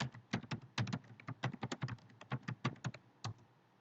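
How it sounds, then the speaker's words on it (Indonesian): A teacher types on a computer keyboard during an online physical-fitness lesson. Quick, irregular keystrokes click close and clear for a few seconds, with no voice over them. "Saya sambil ngomong, saya ngetik juga"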